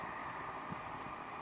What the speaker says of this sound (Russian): сильного ветра нет, такой легкий ветерок, наверное, слышно в камере